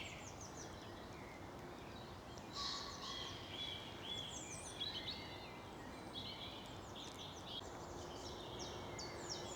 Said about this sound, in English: There's a bird up there I don't recognise. That noise.